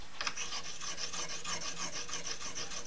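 Scissor blades are drawn across a fine sharpening stone in quick, regular rasping strokes, a close, continuous scraping rhythm with no voices.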